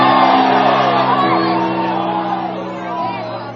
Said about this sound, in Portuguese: Posso ouvir mais um grito de glória a Deus aí?